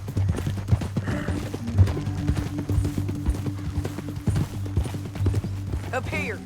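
Horse hooves clip-clop at a steady rhythm in Red Dead Redemption 2, joined by a brief whinny near the end, while people talk over the gameplay.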